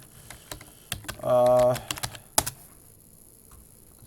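Keyboard clicks from a small keyboard attached to a handheld PC, sparse taps in a short burst, sounding close, with someone speaking briefly and a short electronic tone partway through.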